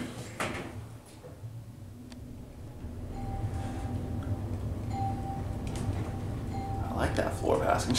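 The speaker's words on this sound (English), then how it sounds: "I like that floor passing chime." Montgomery traction elevator in the Grand Hyatt, Washington, D.C., sounding its floor passing chime as a few thin repeated tones over steady cab rumble and hum, moderately loud and close.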